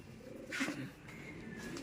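A pigeon gives a soft, low coo, one short throaty call close by in a quiet setting.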